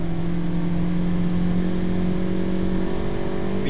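A Toyota Yaris 1.33 with an automatic gearbox accelerates, its engine giving a steady, loud drone that rises slightly in pitch throughout, with no distinct gear shift standing out.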